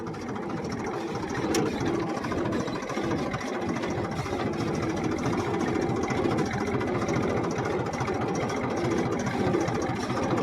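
A small tractor pulling a cart on a farm field runs with a steady, rattling mechanical chug. The sound is continuous and moderately close, with no voices.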